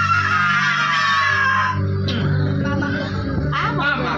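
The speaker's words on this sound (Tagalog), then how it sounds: "O, sigaw muna tayo." A group of people shout together at a birthday celebration. The loud, drawn-out cheer gives way to a mix of voices and chatter.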